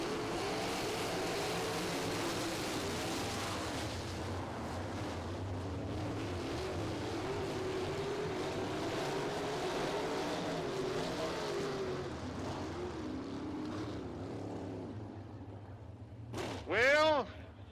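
Sprint cars roaring down the front stretch at Lincoln Park Speedway on a restart, a dense continuous engine drone with rising pitch sweeps near the end, under a race announcer's talk.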